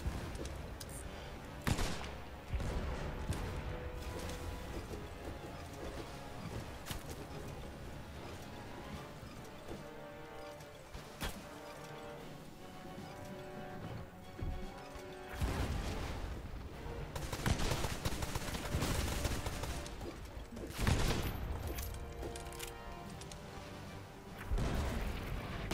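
Cannon fire in the pirate ship battle game Blazing Sails: several heavy booms land a few seconds apart over continuous rumbling battle noise, with the blasts loud and close.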